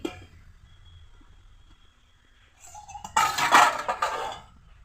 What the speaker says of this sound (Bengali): এখন একটু ঢেকে দিচ্ছি ঢাকা তুলে নিচ্ছি